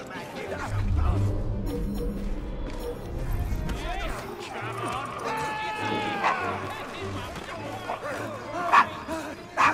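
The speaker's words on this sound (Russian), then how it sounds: "Что это с вашей собакой?" A dog in a game scene in a grim place called the Devil's Acre, barking and yelping amid running footsteps and clatter while people talk over it.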